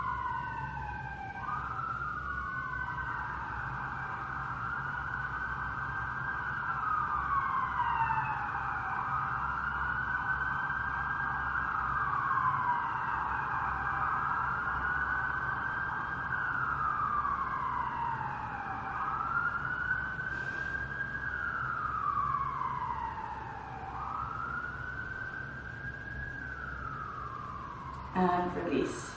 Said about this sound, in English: Apologies about the sirens in the background.